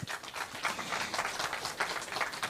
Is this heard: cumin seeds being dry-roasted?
no